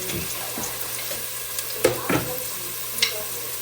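Onion and garlic sauté in a home kitchen pan, a soft steady sizzle with a few sharper stir scrapes and clicks, faint and close, with a low hum underneath and no talking.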